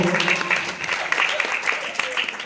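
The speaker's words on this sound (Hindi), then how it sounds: "जोरदार तालियां बजा दी सास बहू की क्रिकेट को।" An audience at a live Hindi comedy show claps loudly in a brief burst, with sharp individual claps standing out from the crowd.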